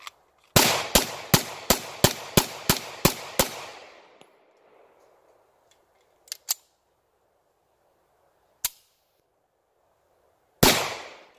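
Shots from a Tisas Regent BR9 pistol fitted with a Browning High Power barrel and a Mec-Gar 15-round magazine: about ten sharp reports in quick succession, then a few scattered single cracks and a final loud shot.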